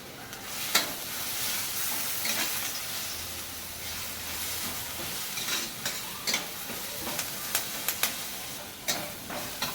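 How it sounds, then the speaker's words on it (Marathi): Ginger, chili and garlic paste fried with curry leaves in a pan, a continuous hissing sizzle with a spoon stirring and tapping against the metal in short, irregular clicks throughout. "आणि ते असं छान परतून घ्यायचं।"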